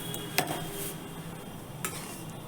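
Flour being roasted and stirred in desi ghee in a pan on a gas stove, with a soft steady sizzle and a couple of sharp spoon scrapes against the pan.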